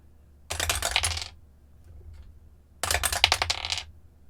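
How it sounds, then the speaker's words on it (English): Dice clatter as they are rolled in a game, in two separate rattling bursts of about a second each with a quiet pause between, loud and close, with no speech. "we roll the dice"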